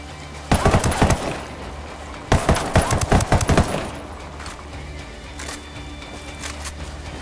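Rapid automatic gunfire in Ghost Recon Wildlands crackles in two loud bursts of closely spaced shots, then fades to quieter distant pops over the game's background ambience.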